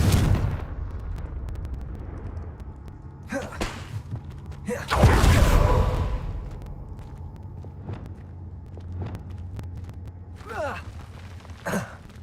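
A Confringo blasting spell erupts in Hogwarts Legacy: one loud, close explosive burst with a rumbling tail, standing out from quieter footsteps and thuds of gameplay.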